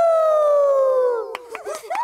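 Cartoon characters give a long, sliding howl like wolves at the moon, voices imitating the sound, trailing off into shorter yelping howls near the end.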